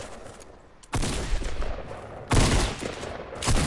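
Gunfire in a PS4 video game, loud bursts of rapid shots starting about a second in, pausing briefly, then erupting again, with no talking over them.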